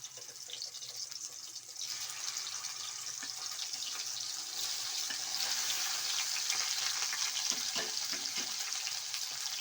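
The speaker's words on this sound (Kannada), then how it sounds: "ನೋಡಿ ಎಣ್ಣೆ ಕಾದಿದೆ ಇವಾಗ ಇದನ್ನು ನಿಧಾನಕ್ಕೆ ಒಂದೊಂದೇ ಹಾಕಬೇಕು" Stuffed okra pieces are lowered one at a time into hot oil and fry with a steady, close hiss. The sizzle swells to a fuller, louder crackle after the first couple of seconds and holds without talk.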